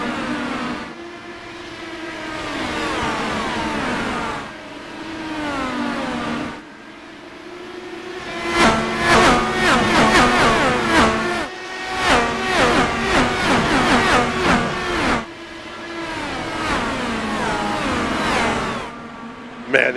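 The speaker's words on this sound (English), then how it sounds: "Man, these cars sound absolutely spectacular at full song." Simulated IndyCar engines at full throttle on the New Hampshire oval in iRacing, a loud sustained multi-car howl with rising and falling pitch sweeps as cars pass and shift, continuous with no talk.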